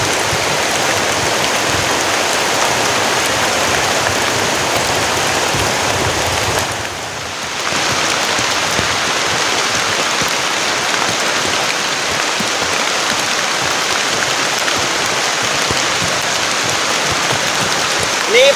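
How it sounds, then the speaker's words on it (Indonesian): Heavy rain pounds a tent in a forest during a stormy camping night, a dense, loud, continuous hiss of drops on fabric that barely dips for a moment before resuming at full strength. "Semoga aja ini hujannya agak reda ya"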